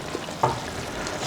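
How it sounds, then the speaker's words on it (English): Chicken karahi curry in a pan, restaurant style, simmering with a soft bubbling sizzle and a brief stir or clink, steady and close with no talk. "What we're going to do is just let that simmer, reduce the heat a little bit, put a lid on"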